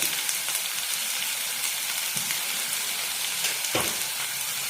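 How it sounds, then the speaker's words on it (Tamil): Drumstick, carrot, yellow pumpkin and brinjal sautéing in a pan for Tirunelveli idi sambar, a steady close sizzle of frying with a few soft scraping stirs, no voices. "இது எல்லாமே லேசா ஒரு வதங்கணும்"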